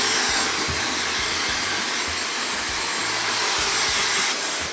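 Hair dryer blowing dry shampoo into hair, a loud, close, steady whooshing roar that runs unbroken throughout with no talking.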